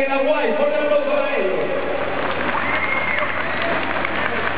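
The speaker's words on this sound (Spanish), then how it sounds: "El aplauso de la gente más alegre está allá aquí en Hawái." A festive crowd at a Pachamama tribute performance in Hawaii applauds and cheers steadily and loudly throughout, a dense wash of clapping mixed with shouting voices.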